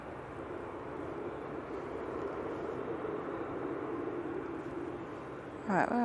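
A plane coming in to land at Manchester Airport gives a steady, broad engine roar at moderate distance that holds for several seconds, with a brief louder clatter at the end.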